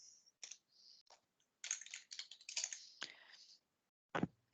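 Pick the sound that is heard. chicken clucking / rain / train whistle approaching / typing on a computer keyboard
typing on a computer keyboard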